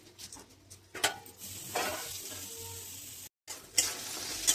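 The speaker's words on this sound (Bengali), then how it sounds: "কুলগুলো আমার ভাজা ভাজা হয়ে গেছে।" Jujubes frying in a pan with oil give a steady sizzle, stirred now and then with scraping, clattering touches and one brief gap in the crackle; no voices.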